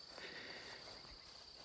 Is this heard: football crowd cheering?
no